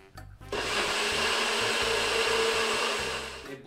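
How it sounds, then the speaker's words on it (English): A blender pulverizing strawberries for a frozen margarita whirs loudly at a steady high-pitched roar for a few seconds, then winds down. "Pop it on your blender."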